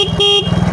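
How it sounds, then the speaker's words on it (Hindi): A Bajaj CT 100 motorcycle horn sounds in short tonal blasts over the running engine's low rumble, close and fairly loud. "अब आपको हॉर्न भी बजा के दिखाते हैं।"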